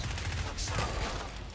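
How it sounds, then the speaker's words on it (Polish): Rapid bursts of automatic gunfire from a weapon in Killing Floor 2, a quick rattling run of shots, fairly faint and close, with a brief sharp hiss partway through. "Śmiesznie strzela ta broń, tak pyryry, pyryry."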